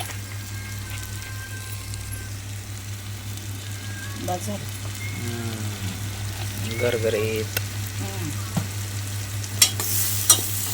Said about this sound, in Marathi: बिर्याणी मसाला पण टाकला आहे थोडस आपण त्यात तूप पण टाकून घेऊ